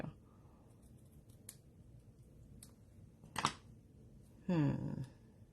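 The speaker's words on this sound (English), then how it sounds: "I'm going to trim it a little bit shorter so it's not sticking out so much" Scissors trim cardstock for a corner pocket card, giving a few soft, sharp snips spread out over quiet room tone, with one longer close cut near the end and no voices.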